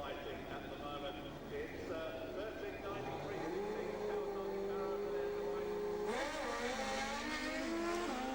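Two 1990s street bikes racing, a 1393cc Kawasaki and a 1700cc Suzuki, roar steadily with engine notes climbing and then surging louder, under a commentator's voice throughout.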